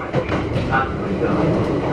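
A Kintetsu electric train arriving at a station rumbles steadily nearby with low mechanical noise and faint clatter, while a Japanese announcement speaks over it.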